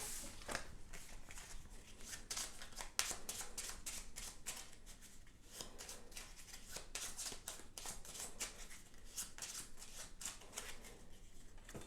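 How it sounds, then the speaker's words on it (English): Cards are shuffled over and over, a steady run of crisp riffling bursts close by, with no talking. "then we shuffle everything else up"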